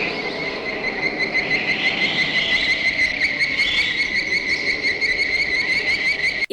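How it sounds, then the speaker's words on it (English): Shrill, pulsing chirps and trilling calls layered over a steady nighttime insect-like drone, eerie and continuous, with no talking; a horror-film monster sound made from a tree frog and several bird calls, from the 1954 film Them! "It's a mixture of a tree frog sound and a few different bird calls"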